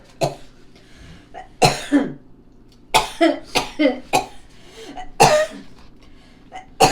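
A person coughs repeatedly in short, harsh bursts, some clustered closely together, with a throat-clearing sound mixed in; close and fairly loud against quiet background.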